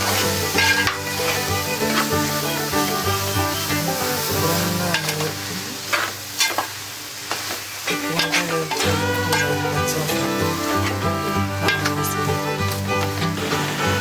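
Scrambled shark sizzles loudly in a pan on a gas stove while it is stirred and scraped with steady, continuous motion.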